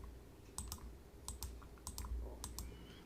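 A number is keyed into a calculator with a handful of light, quick button clicks in small clusters, heard close and quiet against a soft background hum.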